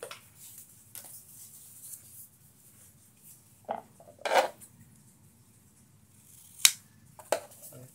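Scissors snip through sticky trap material used to guard a plant against ants and scale insects, a few sharp separate cuts spaced out over a quiet background.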